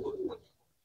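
A racing pigeon cooing, one short, faint, low coo that quickly fades into near silence.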